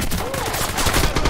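Rifle fire in the video game Red Orchestra 2, a loud sharp crack with dense rattling shots and battlefield noise packed into a brief burst.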